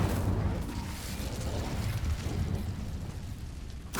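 The Incendio fire spell cast in Hogwarts Legacy, a steady roaring whoosh of flame that holds loud for about four seconds, with a short burst at the end.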